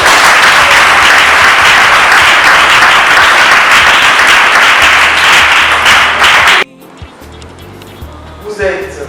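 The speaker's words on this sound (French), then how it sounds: "On peut applaudir." Wedding guests at an official civil marriage ceremony break into loud, dense applause that fills the room for several seconds, then cuts off abruptly as a quieter stretch with scattered voices follows.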